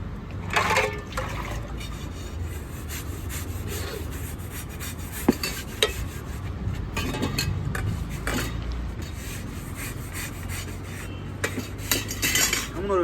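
Continuous clinking and scraping of dishes and pots being washed from a pipe, with metal utensils rattling and water sloshing, steady and close throughout with no talking.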